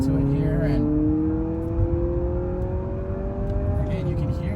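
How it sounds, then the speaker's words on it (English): The engine of a Honda CR-V Sport Touring Hybrid in sport mode hums up under acceleration as a steady droning tone that rises slowly in pitch, heard from inside the cabin with road noise and someone talking over it. "you can hear the engine now kick in"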